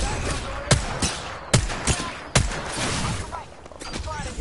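Gunfire in the video game Apex Legends: a few sharp, loud shots crack out over a dense, continuous layer of battle noise.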